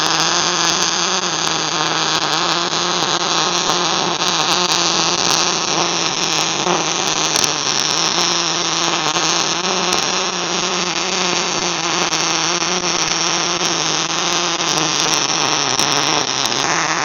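Welder running along a seam on a welding roll out wheel, a continuous loud crackling, buzzing hiss with steady hum underneath, even in level across the whole stretch, no talk.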